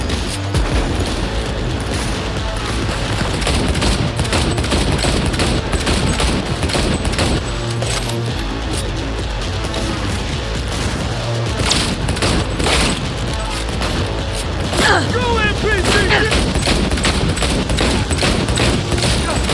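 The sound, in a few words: gunfire in a video game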